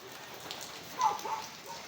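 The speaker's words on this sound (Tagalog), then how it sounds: "Inabot na tayo ng ulan." Light rain falls steadily outdoors during a pause from hauling junk and scrap, a soft, faint patter of drops on surfaces with no voices.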